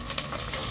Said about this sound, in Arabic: احمس المعجون ويا البصل والمكونات الباقية